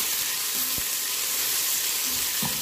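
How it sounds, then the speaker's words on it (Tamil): Green chillies sizzle and fry steadily in a pan for chicken biryani, with a couple of soft scraping stirs against the metal over the continuous hiss. "இதையும் போட்டு நல்லா நாங்கள் மிக்ஸ் பண்ணிவிட்டு"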